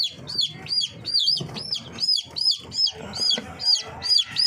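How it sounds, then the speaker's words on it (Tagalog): Chicks cheeping in a rapid, repeated series of high rising peeps, with chickens clucking softly underneath, all close and continuous on a farm. "kita sa kapila may nakalusot na isang sisiw dito sa butas"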